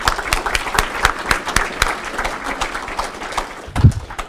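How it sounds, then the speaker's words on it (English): An audience claps steadily, a moderate round of applause with scattered individual claps standing out, fading toward the end. "can we go ahead and give them a round of applause"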